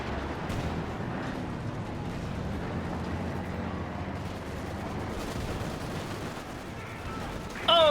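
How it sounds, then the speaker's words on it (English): Fragmentation bombs burst in Company of Heroes 2 on the Road to Kharkov map, a dense rumbling barrage of explosions and gunfire running continuously under battle noise. "Jeez, what a fragmentation bomb."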